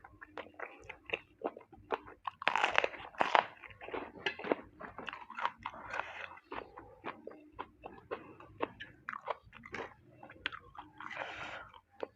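Someone eats spicy khanom jeen rice noodle salad with pork sausage, chewing crunchily and close up. Irregular bites and crunches repeat steadily for about twelve seconds, quiet overall with no talking.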